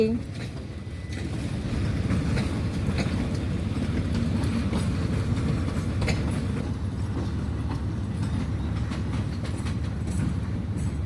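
A Kiha 183 diesel railcar train passing on Thai railway tracks, a steady loud rumble with rhythmic wheel clatter filling the whole stretch, close by and continuous.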